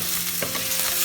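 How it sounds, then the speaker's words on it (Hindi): Paneer fries in olive oil in a pan over a medium-low flame, a close, continuous sizzle with a soft stirring scrape. "हमें पनीर फ्राई करना है, इसलिए पैन ज़्यादा गर्म हो गया"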